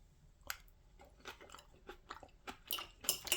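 Someone chews a mouthful of spicy crab and cucumber salad with wasabi sauce, producing faint, close, irregular wet crunches that grow slightly louder toward the end, with no speech.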